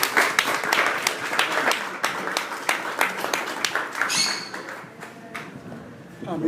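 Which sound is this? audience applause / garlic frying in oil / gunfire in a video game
audience applause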